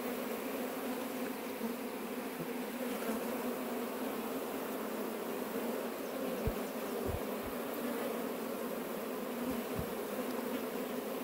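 Bees massed beneath a wooden stump near a house buzz in a constant low drone, steady and close, with a few faint taps and bumps scattered through the later part.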